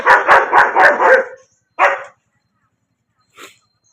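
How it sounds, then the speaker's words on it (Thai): A dog indoors lets out a rapid run of five loud, close barks, then one more after a pause, followed by a faint short yip, with silence between. "คู่อริของเราก็เห่าอยู่แต่ในบ้านนะคะ ไม่กล้าออกมานะคะ"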